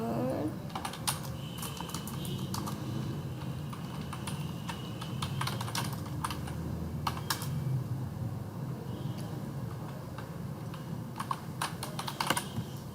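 Steady typing on a computer keyboard, entering details into billing software: close, fairly quiet key clicks in uneven bursts with short pauses, and no voice over them.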